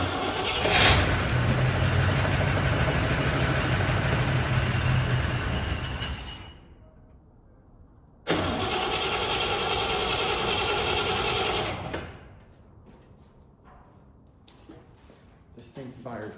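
A 1974 Chevy C20 squarebody pickup that sat 25 years in the desert and has little fuel cranks and runs in two loud, steady stretches separated by a quiet pause before it cuts out again.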